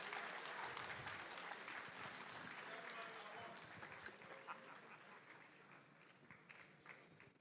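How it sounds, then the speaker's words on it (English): An audience at a Mfantsipim Founders' Day celebration claps to welcome a speaker, a dense wash of applause that starts strong and gradually thins and fades, with a voice faintly audible beneath it. "Let's welcome him with an applause"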